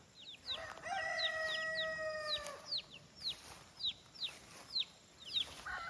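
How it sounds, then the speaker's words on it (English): Newly hatched chicks peep in repeated rising chirps near a hen that has laid eggs, while a rooster-like call and soft clucking sound in the background, all fairly faint outdoors. "I hear some biddies from Summers"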